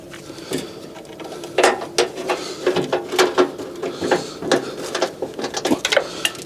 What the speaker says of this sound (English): Let's get the screw back in there.